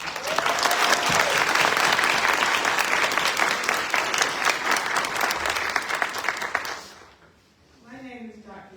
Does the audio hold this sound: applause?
yes